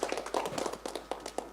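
Applause for a film editor at a press meet for a Marathi movie, heard as a quick patter of claps from a small crowd, moderately close and fairly faint, with no voices over it.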